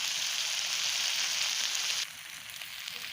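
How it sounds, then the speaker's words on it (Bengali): Potatoes frying in a pan for village-style chicken curry, a close, even sizzling hiss that drops in loudness after a couple of seconds and then continues more softly. "এখন আলুগুলো দিয়ে ভালো করে একটু কষিয়ে নেব।"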